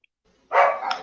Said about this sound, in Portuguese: eu peço desculpa pelo barulho, mas acho que meus cães ao fundo